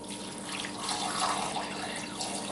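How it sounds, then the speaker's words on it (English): Tap water pours in a steady, hissing stream into a pot to cover chicken for matzo ball soup, moderately quiet and with no talking. "we're going to cover this with water"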